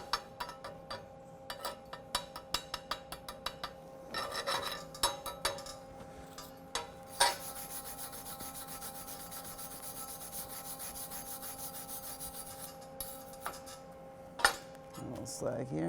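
Slag being chipped and brushed off a weld bead on a half-inch steel 2G plate with a backing strip, a run of scraping rubs and sharp metallic clinks and taps, irregular and close, over a steady background hum.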